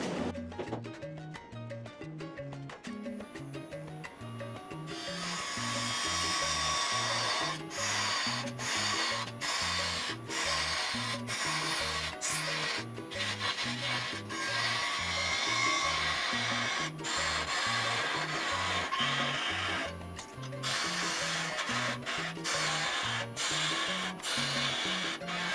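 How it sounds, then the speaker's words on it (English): A parting tool cuts a cherry wood tenon on a spinning lathe, giving a steady rasping scrape with a rhythmic chatter, broken by short pauses and swelling louder after the first few seconds. "I'm going to grab a parting tool"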